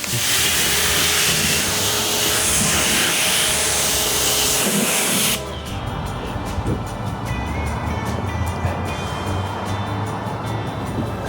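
Water spray rinses a 1993 Nissan 240SX during a full detail, a loud steady hissing rush that drops abruptly to a quieter spattering and hum partway through.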